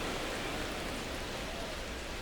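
Steady rain falls during a San Francisco versus New York Yankees baseball game in MLB The Show 25 on PlayStation 5, a dense, even hiss that holds at constant moderate loudness throughout, with no talk.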